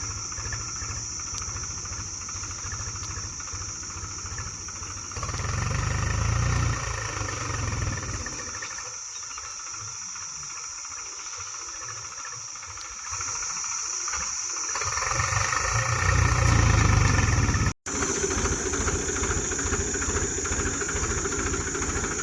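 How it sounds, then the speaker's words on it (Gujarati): A tractor engine runs while pulling, with a steady mid-pitched drone that swells louder in stretches and eases back, heard outdoors close by, with a wood-cutting job nearby. "જો ટ્રેક્ટર ખેંચે છે."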